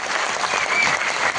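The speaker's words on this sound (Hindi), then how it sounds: "जोरदार तालियां हो जाए संतोष सर के लिए" A brief burst of dense audience applause at an indoor gathering, loud and steady across the whole moment with no talking.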